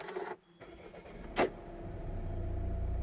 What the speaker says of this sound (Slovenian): In pri S90 se vse skupaj začne že z zagonom motorja.